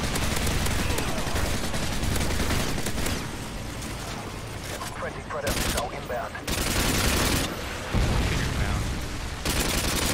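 Sustained automatic turret fire in Modern Warfare 2, a loud, dense roar of rapid shots that keeps going with only brief breaks toward the end.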